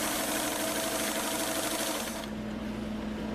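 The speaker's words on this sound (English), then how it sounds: "you need to sew a 1/4 inch all the way around" A sewing machine stitches a quarter-inch seam on a pair of pants, running in a loud, continuous whirring hum that stops abruptly near the end.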